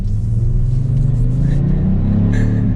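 A 2022 Kia Stinger GT2 RWD accelerates in normal mode while merging into traffic, its engine a steady, loud low rumble that builds smoothly for nearly three seconds with road noise underneath.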